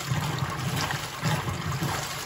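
A repaired GE washing machine agitates with sloshing, churning water and a low rhythmic mechanical swish, steady and close.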